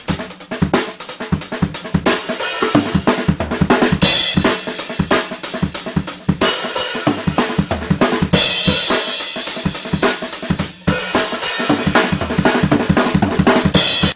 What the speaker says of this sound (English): you're just going to double smack this bass at the end with a cymbal strike and then back to the drum beat